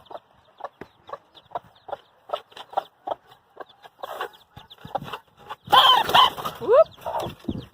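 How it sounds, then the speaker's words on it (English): A mother hen with her little chicks in a cage, sharp repeated clucks and squawks close by, rising to a louder flurry of agitated calls with high chick peeps near the end. "So in this cage here, this mama hen's had some little chickies."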